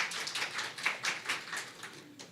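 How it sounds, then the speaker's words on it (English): Brief applause from a conference audience after a presentation: a small group clapping in quick, uneven bursts for a couple of seconds, moderately loud, fading at the end. "Maybe applause."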